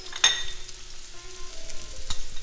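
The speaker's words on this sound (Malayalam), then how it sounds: "ഇനി നമുക്കിതിനകത്തേക്ക് ഉള്ളി ഇട്ട് കൊടുക്കാം" Onion hitting hot oil for spring rolls: a bright, steady sizzle and crackle with a sharp spitting burst at the start, then stirring clinks, close up and with no voices.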